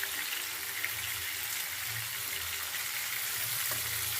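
Tilapia fish frying in hot oil in a pan, a steady dense sizzle and crackle filling the whole stretch, moderately loud and alone.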